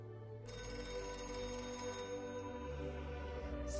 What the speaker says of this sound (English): Alfred, pick up the goddamn phone